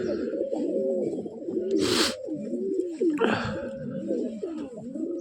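Ice-quality Madras pigeons coo in deep, repeated rolling calls at close range, broken by two brief bursts of wing flutter or rustling.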